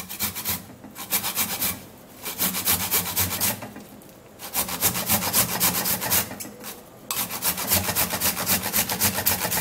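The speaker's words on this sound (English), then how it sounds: "I'm also going to be grating the tomato." A tomato is rubbed against a grater in close, raspy strokes, bursts of scraping broken by brief pauses as the stroke resets.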